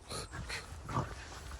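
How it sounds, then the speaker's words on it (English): Small dogs snorting in rough play on a daily walk, a close stream of short nasal snorts and huffs with faint whimpers mixed in and no barking. "they're kind of doing this snorting noise that you've hopefully heard on the camera"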